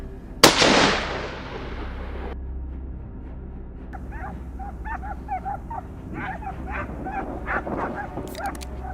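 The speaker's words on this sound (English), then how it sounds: "the hunting dogs don't miss a beat, sniffing out the prey quickly" Hunting dogs chase a wild boar on a hillside. A sharp gunshot-like crack rings out first, then several dogs bark and yip in quick, uneven bursts at moderate distance.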